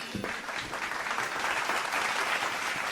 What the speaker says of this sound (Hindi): इसके लिए तालियां होनी चाहिए।